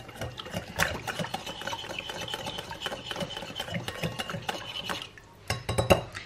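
A spoon stirs a salted and peppered mixture in a bowl, with steady scraping and clinking against the sides for several seconds, a short pause, then a few louder knocks and scrapes.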